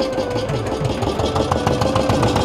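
A ferry boat engine on a river crossing to Mousuni Island drones steadily and loudly throughout, a continuous mid-pitched rumble with a faint rhythmic chug.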